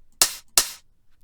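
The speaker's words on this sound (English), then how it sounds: "And then, an open hat." Two open hi-hat hits in a slap house beat, each a bright sustained hiss of noise decaying over a few tenths of a second, spaced evenly and played alone.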